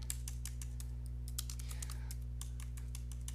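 Rapid clicking keystrokes on a computer keyboard with a sticking shift key, tapped in quick irregular bursts close to the mic over a steady low hum.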